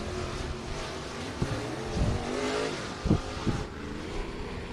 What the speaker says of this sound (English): AJ Hicks going to step on the throttle in that number 10, works to the outside, gets the green flag